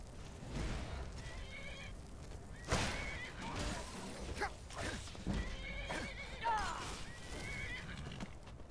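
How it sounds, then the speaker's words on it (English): A horse in the video game Skyrim neighs and whinnies with clip-clop hoofbeats, fairly faint, under game ambience and clattering effects. "Good job, horse. Our horse is pretty cool"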